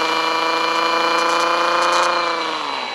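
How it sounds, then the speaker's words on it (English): A supercharged car engine idles steadily and close by, a dense harmonic drone holding level before dipping slightly in pitch and loudness near the end. "the supercharger on this is mean"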